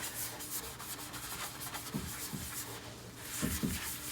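Green scrub pad rubbing gel stain into a kitchen cabinet surface, a steady close scratchy scrubbing with a few stronger strokes, with no talking.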